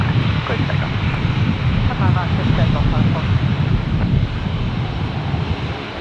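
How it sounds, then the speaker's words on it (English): A plane takes off from runway 19 at Brisbane Airport on a windy day, a steady loud engine roar with wind buffeting the microphone while someone talks over it. "Runway 19, clear to takeoff."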